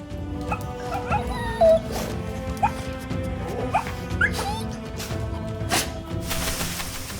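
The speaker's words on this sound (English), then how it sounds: "It is the African wild dog." African wild dogs on the savanna give short high yips, whimpers and chirping twitters, scattered irregularly over a steady low background hum, fairly close and moderately loud.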